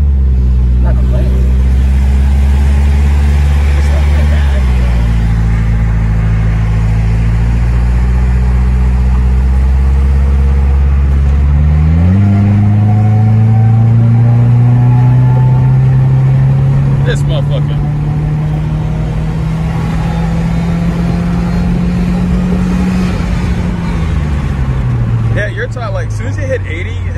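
A supercharged 1999 Mercedes C230 engine pulls hard from a loud idle, its drone climbing steadily in pitch as it accelerates and holds, then easing off near the end, heard from inside the car.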